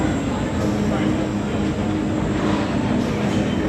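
Ride train advancing at Magic Kingdom, Walt Disney World: a loud, steady rumble of a rolling train with faint wheel squeal and mechanical noise, while people talk over it.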